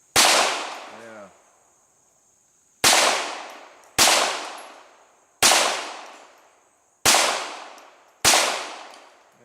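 .22 LR rifle shots ring out at a target, six sharp, loud cracks spaced roughly a second or more apart, each with a short decaying echo, and a brief voice sounds after the first.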